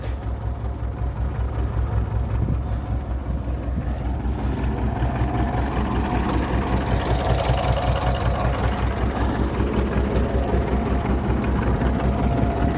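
A homemade potato planter driven by a small engine runs steadily and close, a continuous low rumbling drone with a faint rhythmic chug throughout, no voices.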